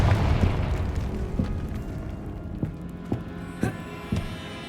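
Fiery Confringo explosive spell cast in the Hogwarts Legacy video game, a series of sharp booming blasts spaced about a second apart over a dense, rumbling game soundscape.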